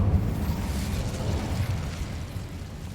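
Incendio fire spell cast in Hogwarts Legacy on PS5: a dense, rumbling whoosh of flame that stays loud and steady throughout, with no talking.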